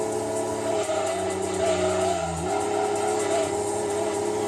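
Car in Gran Turismo 2 racing around a tricky turn, engine droning steadily with a tire skid and squeal midway before the motor picks back up, continuous and fairly close with no talk.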